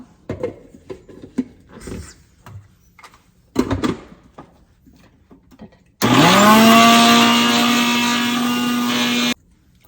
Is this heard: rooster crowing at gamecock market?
no